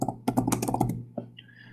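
Typing on a computer keyboard: a quick run of key clicks for under a second, then a short pause and a single further tap, close and fairly loud over a steady low hum.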